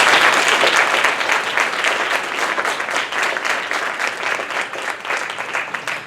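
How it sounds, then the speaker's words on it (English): A graduation audience applauds steadily for about six seconds, a dense wash of many hands clapping at once that stays loud throughout and eases off only slightly toward the end, with no talking over it. "give yourselves a huge round of applause"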